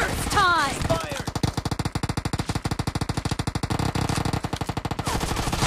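Rapid automatic gunfire from a PUBG Mobile match rattles out in a loud, fast, evenly spaced stream of shots lasting several seconds, with short gaps near the start and end.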